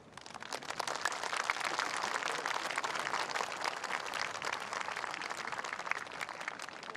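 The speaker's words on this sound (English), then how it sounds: "But listen for the applause anyway, because she is a hero in this part of the world." A golf gallery applauds Suzann Pettersen on the final day of the LPGA Sunrise Taiwan Championship, a dense, continuous patter of distant clapping that swells after the opening second and holds steady, with no voices over it.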